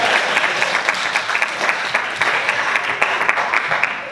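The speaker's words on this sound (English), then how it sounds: "That's supposed to be an applause line." A crowd at a Maine gubernatorial campaign event applauds in steady, lively clapping, a close, continuous patter of many hands with no speech over it.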